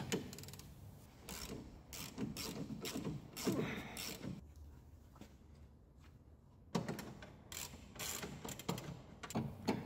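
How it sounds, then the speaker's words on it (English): Metal bolts and nuts being loosened from the front suspension control arm and stabilizer link of a 1972 Peugeot 204, with bursts of ratcheting clicks and scraping, a quieter pause midway, then more wrenching close by. "I start by removing the control arm bolts, the nut of the link,"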